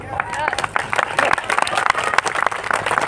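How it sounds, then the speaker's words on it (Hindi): Audience clapping at a large public program, a dense, continuous patter of many hands mixed with crowd murmur and babble throughout. "आप दूसरों के लिए तालियां बजा रहे हैं"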